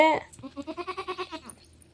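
A goat that has just given birth to kids lets out a short, close bleat, a quick wavering cry lasting under two seconds.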